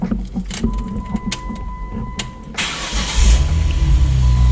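A 2011 Jeep Wrangler JK, fitted with a new ignition switch, cranks and starts up close, with a burst of starter noise that settles into a steady, loud idling rumble.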